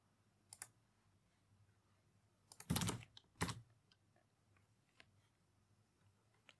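Password being typed on a computer keyboard, heard as faint, scattered key clicks with a short louder burst of keystrokes in the middle, in an otherwise quiet room.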